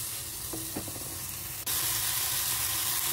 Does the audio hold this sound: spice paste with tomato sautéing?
yes